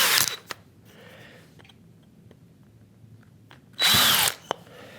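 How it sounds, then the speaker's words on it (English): Power drill boring a hole through a router plane guide, two short loud bursts of whirring, one at the start and another near the end, separated by a quiet stretch with faint handling noises. "we're going to drill down and just let that drill flow"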